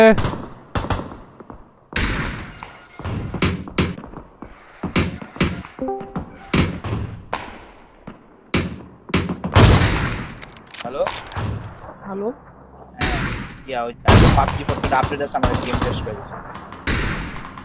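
Gunfire in the shooter game PUBG: repeated sharp shots and short bursts, some rapid and clustered, spread through the clip at close range, with people talking over the action.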